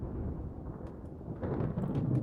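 Continuous low rumbling thunder of a lightning storm in the warship strategy game Ultimate Admiral Dreadnoughts, broad and steady, growing slightly louder toward the end.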